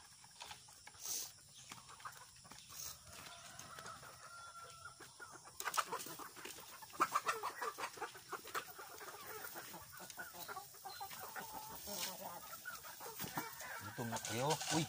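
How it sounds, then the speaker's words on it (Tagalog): Rhode Island Red heritage chickens, free range, clucking and calling in a flock, with irregular bursts of clucks growing busier and louder midway, plus scattered rustling and a few faint voices nearby. "Dito naman tayo sa ating mga Rhode Island Red, yung mga heritage chicken natin."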